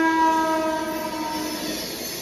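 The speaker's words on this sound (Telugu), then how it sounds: "మన ట్రైన్ అయితే స్టార్ట్ అయిపోయింది." A Vijayawada–Rajahmundry MEMU passenger train sounds a loud, sustained horn as it starts from Kovvur station, the tone fading slightly against a steady rail rumble, with no talking.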